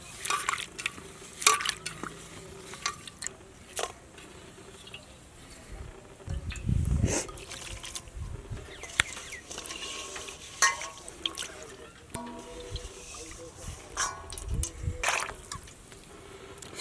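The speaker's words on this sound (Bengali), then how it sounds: "এবার আমি ভালো করে চিংড়ি মাছগুলো ধুয়ে নেব।" Small village-style shrimp, already cut, get washed by hand in water: intermittent sloshing, stirring and trickling, with scattered clinks and dribbles close by over about seventeen seconds.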